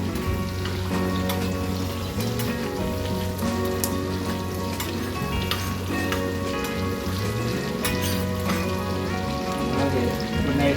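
Green chillies crackle and sizzle in hot oil for fish frying, a steady dense spattering hiss with scattered sharp pops throughout, loud and close, over a faint background tone.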